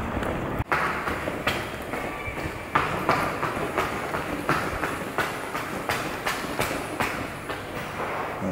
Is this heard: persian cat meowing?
no